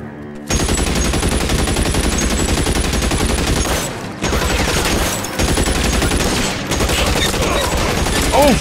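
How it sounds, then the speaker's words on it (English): Loud, sustained gunfire from the video game LA Noire, rapid continuous shots in long bursts broken by brief pauses. "let's do some of this janky shooting then"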